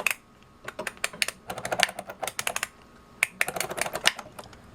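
Rotary switch of a Brymen BM869s multimeter being cycled repeatedly, a close run of crisp clicking detents in quick irregular bursts, with no voice.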